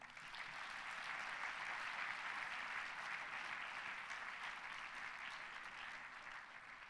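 Steady, sustained applause from a large audience at a live music event fills the space evenly from start to finish, with no voices on top.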